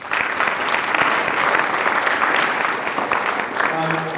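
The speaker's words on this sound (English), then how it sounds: "So a big round of applause for those folks" Loud, dense applause from an audience at an Innovate WithIN pitch competition, sustained and even throughout with no letup, filling the room from start to finish.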